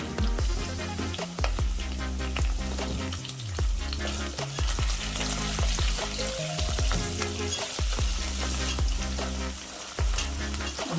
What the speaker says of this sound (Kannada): ಒಂದು ನಿಮಿಷ ಹೀಗೆ ಫ್ರೈ ಮಾಡಿ